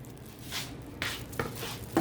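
Soil being stirred and mixed by hand with natural amendments and vitamin feed for planting, giving soft gritty rustles and a few sharper scraping strokes, close and quiet with no talking.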